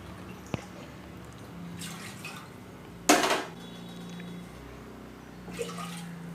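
Three short splashy bursts of water pouring over toor dal into a metal pressure cooker, the middle one loudest, with faint clinks between.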